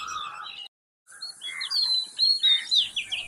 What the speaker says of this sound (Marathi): मॅकपाय रॉबिन अर्थात सुरेल दयाळ काटेसावरीवर बैठक जमवतो. साथीला बसतो लाल बुड्या बुलबुल